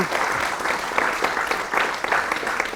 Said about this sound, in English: can I tell you what that applause is about?